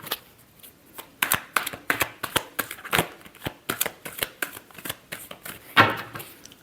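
Tarot cards being shuffled by hand in quick, crisp riffles and taps, a steady run of close, sharp bursts with one louder flourish near the end, no talking.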